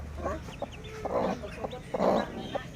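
Chickens on a small chicken farm cluck and squawk in short repeated bursts, fairly close, with a couple of louder calls standing out over a steady rural background.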